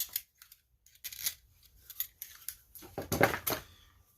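Scissors snip through self-sticking drywall tape in a few quiet, close clicks and crisp cuts with short pauses between them.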